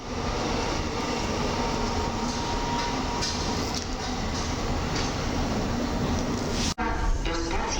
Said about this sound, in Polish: to pociąg Flirt ER 160, który zmierza w kierunku Warszawy Głównej